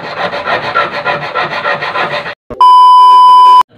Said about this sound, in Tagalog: Tayo ng grinder, patulisin natin.